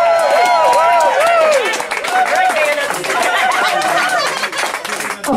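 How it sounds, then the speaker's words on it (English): A crowd at a homebrew drinking-glass competition cheers and whoops loudly, with sustained, wavering voices layered over a steady patter of clapping for several seconds. "Applause for Teresa."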